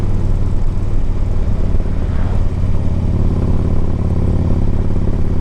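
A 2008 Harley-Davidson Ultra Classic 105th Anniversary motorcycle rumbles loudly and steadily up close while being ridden, its deep engine drone constant with light mechanical clatter throughout.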